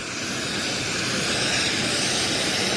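Steady, loud roar of aircraft engines at Sabiha Gökçen Airport in Istanbul, a continuous broadband wash with no breaks and no voices.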